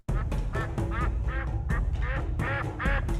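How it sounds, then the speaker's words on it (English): Pekin ducks quack loudly and close, a rapid series of about a dozen harsh nasal quacks in quick succession, steady and unbroken with no voices. "Pekin ducks are quite vocal, with females producing loud, frequent quacks, especially when excited or expecting food."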